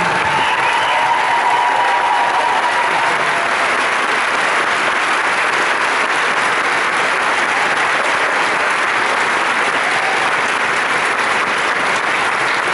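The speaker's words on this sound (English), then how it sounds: "please give these kids a big cheer and their mom and dad" A large convention crowd at a Battlestar Galactica fan panel claps and cheers for a group of costumed kids, loud continuous applause sustained for over twelve seconds.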